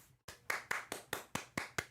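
Applause sound effect played during an online LEGO self-portrait build challenge show: a short run of eight sharp, evenly spaced claps after a brief silence, clear and fairly quiet, with no voices.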